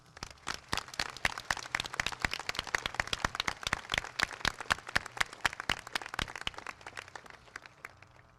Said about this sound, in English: Please join me in applauding the Monte Vista faculty